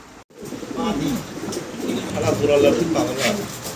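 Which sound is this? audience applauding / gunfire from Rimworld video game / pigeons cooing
pigeons cooing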